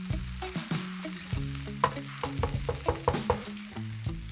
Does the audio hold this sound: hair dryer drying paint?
no